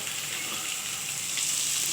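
Onion frying in a pan, a dense, even sizzle hissing close and steady throughout with no voices.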